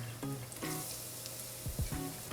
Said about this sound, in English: we are just going to saute our ginger and garlic for, quick 2-3 minutes